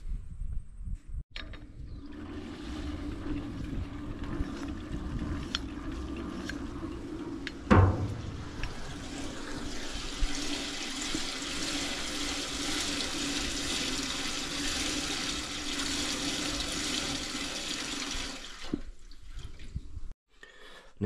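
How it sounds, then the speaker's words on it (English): Fuel pours into the tank of an old Allis-Chalmers tractor under restoration, a steady hollow liquid gush running for about seventeen seconds with one sharp knock partway, then stopping. "So we can actually get some fuel for it now and put some fuel in it."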